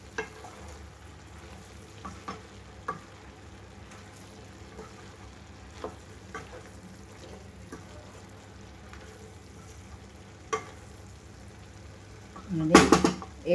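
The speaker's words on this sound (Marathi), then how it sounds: "तर हा एक नारळाचं खोबरं आहे. छान असं परतून घ्यायचं आहे आपल्याला." Grated fresh coconut sautés in a pan with a low, quiet sizzle, punctuated by occasional sharp taps and scrapes of the spoon, with a voice talking faintly alongside.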